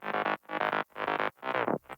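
Choppy, stuttery distorted synth bass layer with gritty upper harmonics and the low end cut, built in FL Studio 20 and played as five loud chopped bursts, one sliding down in pitch.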